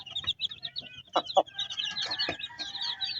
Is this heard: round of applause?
no